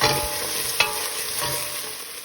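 A spoon stirs dragon chicken through tomato sauce in a frying pan, a steady close sizzle with a single sharper scrape of the utensil partway through, no voices.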